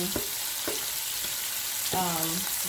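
Shrimp and salmon bites sizzling in a very hot pan, a loud constant hiss and crackle with a few brief tonal squeaks and scrapes over it, no one speaking.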